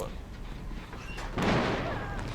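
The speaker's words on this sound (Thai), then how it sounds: "เครื่องระเบิดสุดยอด" A generator exploding in the horror video game Dead by Daylight. A sharp burst rises partway through over game ambience and then decays into a rumbling tail, moderately loud.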